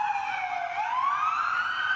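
An ambulance siren wails in Beirut after a pager attack, a single rising and falling tone sweeping steadily, clear and moderately close, with no voices over it.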